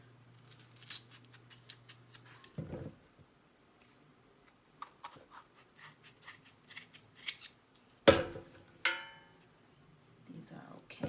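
Potatoes for potato salad are cut with a knife: a close series of small sharp clicks and taps, then a couple of louder thuds on the board near the end.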